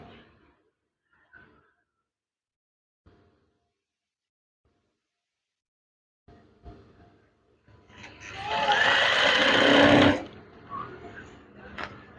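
A sewing machine stitching a fold of curtain fabric runs in one loud burst of about two seconds after scattered quiet handling sounds, then stops.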